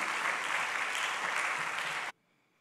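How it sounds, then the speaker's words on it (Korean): A church congregation applauds during a Sunday worship service, a dense, even wash of many hands clapping for about two seconds before stopping abruptly into near silence. "은혜 주신 하나님께 영광의 박수"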